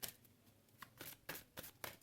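A deck of playing cards is riffled in several quick, close bursts separated by short pauses, each burst a crisp flutter of card edges with no talk over it.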